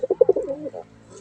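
A pigeon coos near newly hatched chicks, a short close series of rapid throaty pulses that trail off into a softer low murmur.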